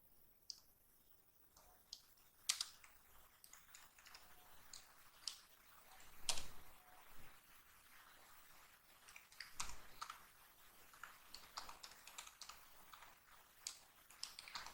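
Python code being typed on a computer keyboard, a quiet run of light irregular key clicks with a few louder taps, close and alone.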